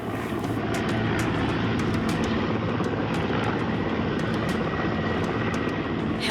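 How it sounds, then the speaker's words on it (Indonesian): A waterbombing helicopter fighting a forest and land fire in Rokan Hulu and Rokan Hilir, Riau, its engine and rotor roaring steadily and loud with fast rhythmic blade chop, no voices. "Helikopter waterbombing dikerahkan untuk memadamkan kebakaran hutan dan lahan di Kabupaten Rokan Hulu dan Rokan Hilir, Riau"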